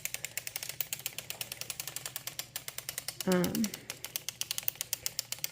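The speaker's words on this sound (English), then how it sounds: "I'm super excited that this machine can knit a lot faster than I can" A hand-cranked circular sock machine knits with a fast, even train of clicking, ratcheting ticks. A short voice cuts in midway over the mechanism, which is fairly quiet and close.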